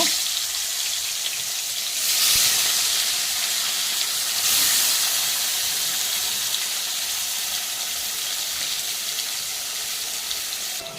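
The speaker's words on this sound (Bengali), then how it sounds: "আবার আমি 3 পিস মাছ ভেজে নেব।" Fish pieces frying in hot oil give a loud, dense, continuous hiss and sizzle that swells briefly twice, close up with no talk.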